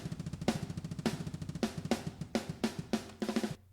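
Overhead microphone track of sampled metal drums, heard alone with no processing: fast, tight kick pulses under a steady run of bright, sharp snare cracks, loud and close, ringing out at the end.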